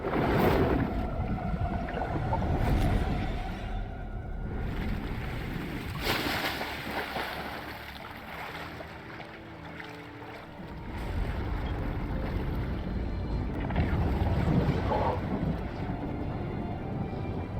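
Water sloshes and rushes continuously as a character moves through the sea in Fortnite during the Chapter 2 finale, with a full, surging wash that swells and dips without pause.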